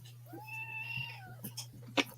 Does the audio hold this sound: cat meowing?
yes